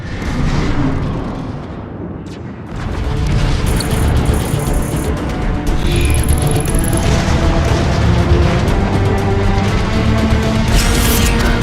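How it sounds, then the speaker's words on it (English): Heavy warp cannon shelling pounds the Ark in Transformers: Fall of Cybertron, a loud, continuous barrage of deep booms and crashes with a brief lull early on before the rumbling bombardment swells and holds steady. "there are 3 warp cannons shelling the Ark"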